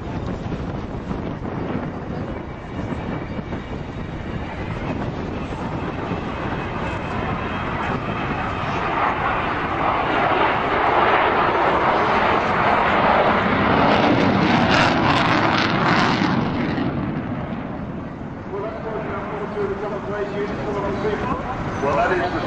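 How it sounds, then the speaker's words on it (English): A large jet aircraft with four Rolls-Royce Bristol Olympus 202 two-shaft engines roars past at the 2011 Southend Airshow, its rumble swelling to a loud peak and then fading, with wind buffeting the microphone and faint voices underneath. "that is the sound of 4 Rolls-Royce Bristol Olympus 202"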